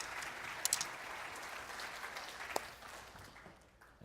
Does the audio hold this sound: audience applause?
yes